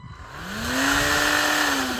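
A cordless battery-powered string trimmer spins up and settles into a steady high whine, close and loud, with its pitch rising as the motor reaches speed and then holding even with no voices over it.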